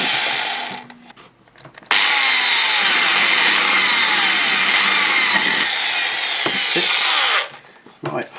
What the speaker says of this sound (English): The drill bit touched down.